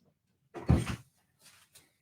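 A door opened to let a cat out at home: a single short knock-and-creak of the door handle and frame, fairly close, followed by a couple of faint softer shuffles, with no talk.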